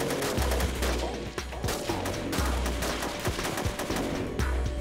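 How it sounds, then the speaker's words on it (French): Gunfire from a reenacted shootout between robbers and police with a SWAT sniper: dense, rapid volleys of shots over a constant low rumble, loud and continuous throughout. "les voleurs ouvrirent le feu sur les policiers"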